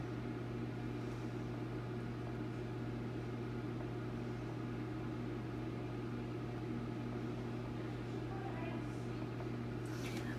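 A kitchen oven hums steadily with a constant low drone and faint background hiss, running unbroken throughout with no voices over it.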